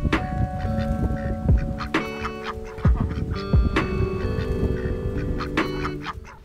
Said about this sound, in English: our ducks are mostly free range in our garden